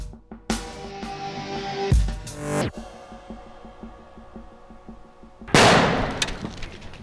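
A Skitter head practical effect blowing apart in a rigged trap, with sharp loud bursts early on, a ringing, resonant decay, then a final broad explosive blast near the end.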